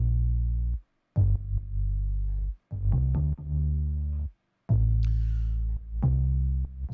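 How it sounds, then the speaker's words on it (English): A deep, heavy bass line pumps in rhythmic bursts, ducking to near-silence between each kick hit for a pulsing, gated feel. "what you're hearing is a side chain where the kick is coming through"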